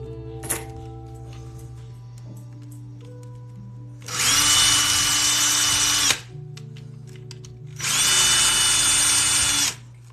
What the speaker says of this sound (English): Drill through the rubber a little bit, but I'd rather drill through the rubber than drill through the desk.